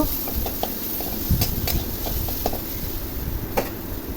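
Raw mango pieces with salt and turmeric frying and being stirred in a pan, giving a steady close sizzle broken by repeated soft scraping and tapping strokes, with no talking.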